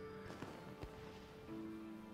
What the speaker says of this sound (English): there's fireworks out in the distance.